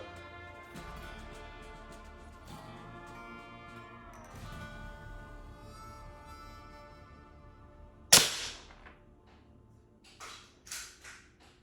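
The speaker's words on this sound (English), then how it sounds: "I'm just going to show you the shots at a little higher speed." A Diana Model 6 air pistol fires a five-shot group: one sharp, loud crack stands out, followed by a few fainter pops and clicks over a quiet steady tonal hum.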